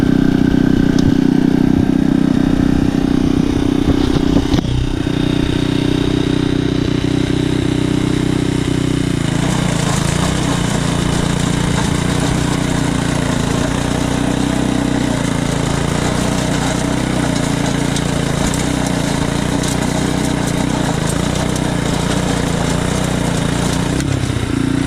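Earthquake Pioneer rototiller's small engine runs steadily at close range, holding a continuous idle before the tone shifts as the reverse belt engages, with no talk.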